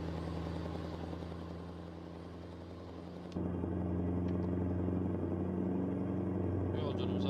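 Scania R560 truck engine and exhaust in Euro Truck Simulator 2 holds a steady, deep droning rumble that steps up in loudness about halfway and stays constant.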